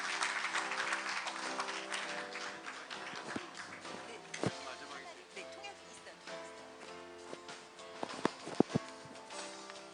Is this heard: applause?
yes